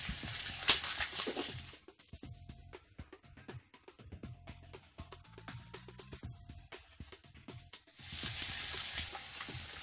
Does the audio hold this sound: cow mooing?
no